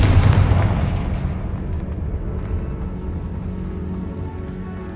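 A Confringo fire-spell blast from Hogwarts Legacy, a loud deep boom that bursts at the start and rolls into a long rumbling decay with no talking.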